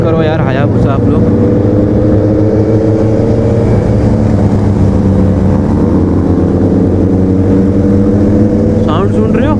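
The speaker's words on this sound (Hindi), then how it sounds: "अब गाड़ी की साउंड सुनो इनलाइन 4 की. हायाबुसा का साउंड सुनो कितना प्यारा है गाइस." A Suzuki Hayabusa inline-four motorcycle in a drag race roars loudly and steadily throughout, its engine droning at high revs with smooth rising harmonics, while wind buffets the rider and a voice talks over it.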